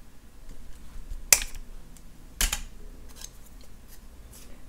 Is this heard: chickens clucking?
no